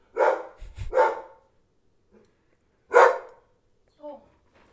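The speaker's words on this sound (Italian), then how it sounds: "Il mio cane non è d'accordo con..." A dog's short barks and yelps come in a few bursts, loud and close at first, then a single sharp bark and a faint final yip after pauses of silence.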